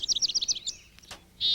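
A chickadee calls close by in a backyard in winter: a quick series of high chirps, a pause, then one sustained high note at the end, with no talking.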